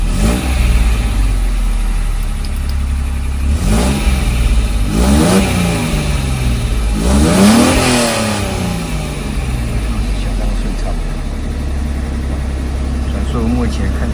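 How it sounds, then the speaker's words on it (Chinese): Mercedes R107 280SL engine tested after repair of its faulty fuel distributor, idling loudly and revving up smoothly three times in succession before settling back to idle, with someone talking over it. "提速是相当顺畅的"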